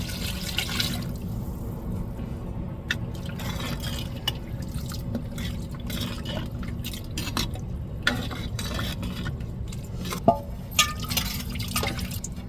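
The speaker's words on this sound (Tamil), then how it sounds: "நம்ம மசாலா தண்ணி சேர்த்துக்கிடுவோம்" Masala water is poured into a frying pan of curry being cooked, with stirring, dripping and a low bubbling sizzle, punctuated by occasional clicks of a spoon against the pan.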